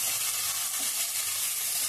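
Chopped red amaranth leaves, freshly washed, sizzle in a frying pan with a steady, dense hiss and crackle that holds close and even throughout, no voices over it.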